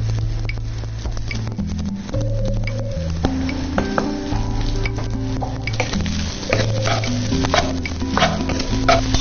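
Salmon fried rice stir-fried in a wok: steady sizzling with repeated scraping and clinks of a spatula against the pan, close and continuous, with background music.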